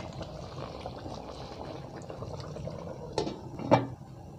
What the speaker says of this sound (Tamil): தண்ணி கொஞ்சம் பத்திரத்துக்கு அவியட்டும்